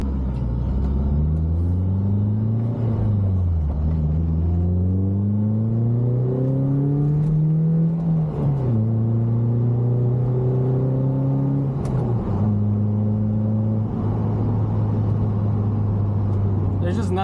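A manual-transmission car drives and accelerates along a backroad, its engine note climbing through several gears with clear drops at each shift, loud and steady throughout with no talking.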